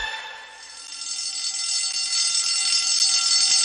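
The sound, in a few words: hotel fire alarm ringing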